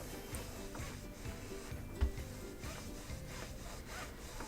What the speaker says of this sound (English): moving the little Easy Press Mini around